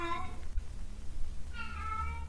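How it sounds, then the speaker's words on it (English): A cat meows twice, drawn-out and tonal, separated by a short pause, over steady low background hum. "the cat has started meowing in the background"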